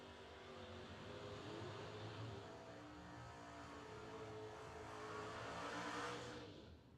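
A drag race at Darlington Dragway, an Oldsmobile from Georgia against a Mustang, heard as a distant, sustained engine roar that swells toward the end and then fades.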